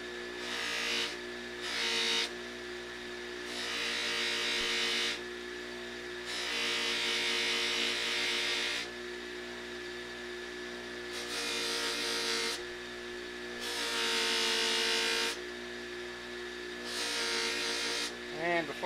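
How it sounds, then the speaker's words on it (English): A motorized buffing wheel loaded with red rouge whirs in steady bursts as it polishes metal to a mirror finish, its high hiss swelling when the part is pressed in and easing between passes, with a constant motor hum beneath. "A little bit of red rouge on the buffing wheel."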